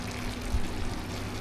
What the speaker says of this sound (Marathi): पानी डाल पानी डाल